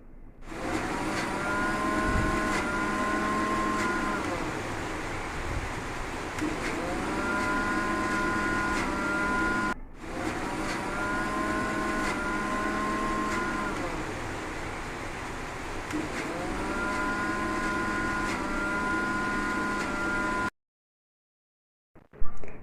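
Kitchen blender running steadily on mayonnaise made from boiled eggs with a spoon of vinegar, a loud continuous motor whir with pitch shifts as it labors, briefly pausing midway, then cutting off near the end.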